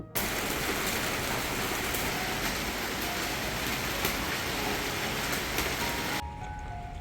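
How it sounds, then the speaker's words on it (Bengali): Heavy rain pours onto a tin roof, a dense, steady drumming hiss that fills the clip before dropping off abruptly near the end. "কিছুক্ষণ পরপরই এরকম ঝুম করে বৃষ্টি নামছে আবার চলে যাচ্ছে"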